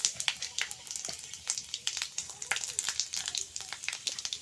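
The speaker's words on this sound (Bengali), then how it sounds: "তো এখানটায় আমি দিয়ে দিচ্ছি ফোড়ন।" Whole spices and bay leaf are tempered in hot oil in a home kitchen for a vegetarian pumpkin chorchori, giving quick irregular crackles and pops over a soft steady sizzle, close and moderately loud, with no talk.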